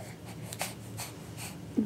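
A dog sniffles close by, a few short breathy snuffling bursts spaced through a quiet indoor moment during a patty-cake trick session.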